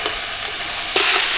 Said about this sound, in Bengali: হালকা নেড়ে চেড়ে নিচ্ছি,